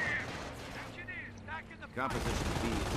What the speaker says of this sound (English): But the MG42 is opening fire.